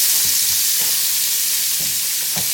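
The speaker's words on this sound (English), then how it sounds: "Alright, so we're going to add some onions." Onions sizzling in oil and butter in a pan, a loud, steady frying hiss throughout with faint stirring knocks beneath.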